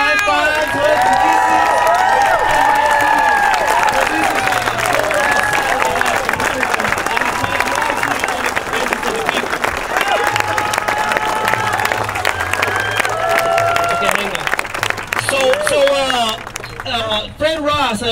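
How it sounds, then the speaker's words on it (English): A loud crowd at an Occupy Santa Rosa rally claps and cheers continuously, with whoops, shouts and children's voices mixed into the dense applause before it trails off near the end. "give yourselves a big ol' applause, high fives, hugs"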